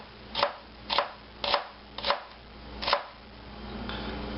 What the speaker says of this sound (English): I put a finger on the other side and slide the knife back on the board.